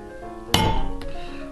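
A cedar stamping tool is struck once into a leather belt, giving a single sharp, close knock followed by a fainter second tap and a brief ring.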